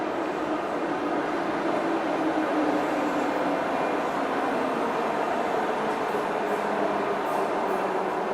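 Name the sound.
older Russian-made metro train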